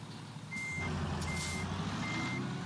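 In American Truck Simulator, a logging truck backing up gives three evenly spaced reversing beeps over a steady low engine hum and drivetrain whine.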